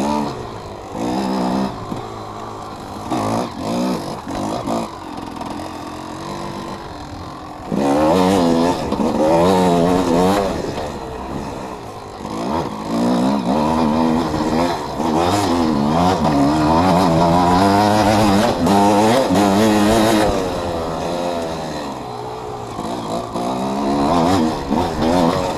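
GasGas EC 300 dirt bike ridden along single track, its engine rising and falling as the throttle opens and eases through turns, loud and close throughout with no talking.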